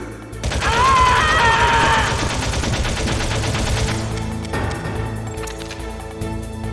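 Rapid bursts of automatic gunfire ring out in Metal Gear Solid, a dense fusillade with metallic echoes and game sounds layered over it. The volume eases off partway through and then more shots crack out.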